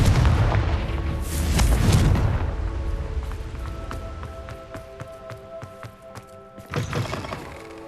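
A Confringo blasting spell in the Hogwarts Legacy video game sets off a heavy, booming explosion that rolls out and fades, followed by a second softer blast near the end.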